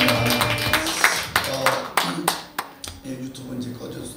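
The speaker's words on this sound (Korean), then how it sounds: "우리 하나님께 영광의 박수를 돌립니다." A congregation in a Korean church gives scattered, uneven claps, a handful of sharp hand strikes spread over a few seconds, with voices talking over and between them.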